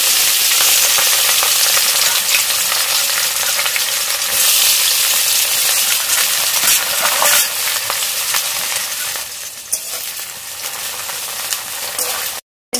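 Chicken kosha sizzles and fries loudly in a pan, stirred continuously with scraping sounds, close and steady until it cuts off at the end.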